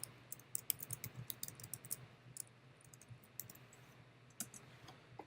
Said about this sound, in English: We can go type in right here